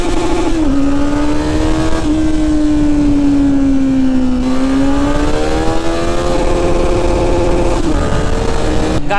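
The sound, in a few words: Kawasaki Z900 motorcycle revving to redline in first gear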